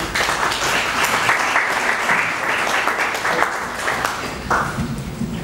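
Loud, sustained audience applause greets a speaker at a presentation on plantain pseudostem disease, a thick wash of many hands clapping steadily throughout with a few louder individual claps.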